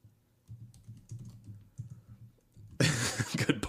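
Someone types on a computer keyboard in a podcast recording, a run of quiet clicks at first, then a louder, denser burst of keystrokes near the end.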